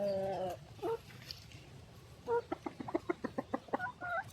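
Chickens on a chicken farm cluck in a quick run of short, repeated clucks after a few scattered calls, fairly close but moderately quiet.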